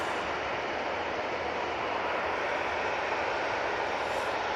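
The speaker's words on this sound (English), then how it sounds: "This will be off to Barcelona using the A320-200." An EasyJet Airbus A320-200 departs Manchester Airport for Barcelona, a steady, broad jet engine roar that holds constant and fairly close, with no talk over it.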